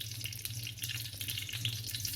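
Half a tablespoon of cumin seeds sizzles in hot cooking oil in a karahi, a steady close hiss and crackle with a low hum underneath and no talking.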